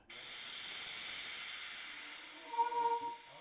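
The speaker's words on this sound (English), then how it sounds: "So here we're removing air from the brake lines as we add the new brake fluid in." Compressed air hisses steadily and loudly while air is bled from a BMW race car's brake lines during a fluid change, starting abruptly and holding nearly constant, with faint tonal whines near the end.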